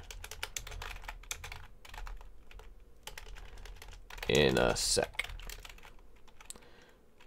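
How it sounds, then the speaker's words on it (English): A loud computer keyboard clatters with fast, steady keystrokes through most of the stretch, close to the mic, while a person speaks briefly over it. "Sorry about the loud keyboard."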